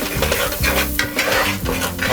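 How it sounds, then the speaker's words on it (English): A spoon scrapes and stirs through curry shrimp pasta with French onion in a pot, producing repeated swishing strokes over a steady background simmer, close and fairly loud. "So I'm going to give this a stir."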